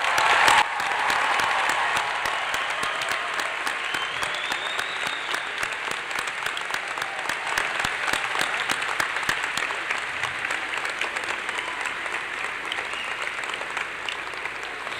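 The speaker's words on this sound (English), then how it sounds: "we acknowledge them with a round of applause" Sustained audience applause in a school auditorium at a high school graduation honoring faculty and staff, with many hands clapping steadily and a brief voice at the very start.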